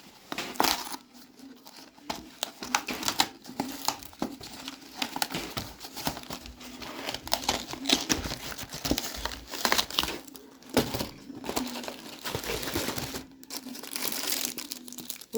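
Plastic snack packaging being worked open, a long run of close, irregular crinkling and crackling that keeps going in bursts with short pauses.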